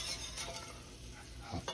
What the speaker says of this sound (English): What I want to do is melt this butter up.